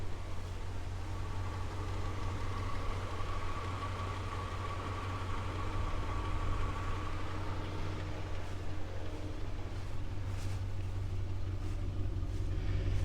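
A 1969 Cadillac Eldorado with 26,000 miles and a two-into-one exhaust idles in a smooth, quiet, steady rumble, heard up close and alone without talk.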